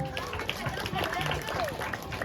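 Crowd applause at a Balinese comedy performance at Pura Griya Sabha Kukuh, a dense steady patter of clapping with background chatter throughout.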